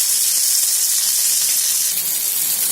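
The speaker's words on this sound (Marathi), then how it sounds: "आपण एक साईडने व्यवस्थित भाजलेला आहे, दुसऱ्या साईडने पण भाजून घेऊया." Black pomfret fish shallow-frying in a pan, Karwar style, as it is turned to cook the second side, a loud, steady, bright sizzle of hot oil that continues evenly throughout at close range, with no talking.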